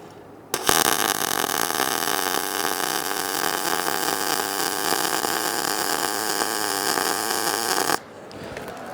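MIG welder running a bead at normal wire stick-out, a loud, even, continuous crackling buzz that kicks in sharply and holds steady for about seven seconds before stopping abruptly, heard up close without speech.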